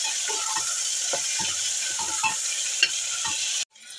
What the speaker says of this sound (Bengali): তেল গরম হয়ে গেছে, আমি এবার পেঁয়াজগুলো দিয়ে ভেজে নিই